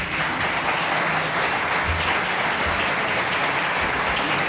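Audience applause at a constituent assembly session, dense and steady clapping from a large crowd that holds at a loud level throughout without pause.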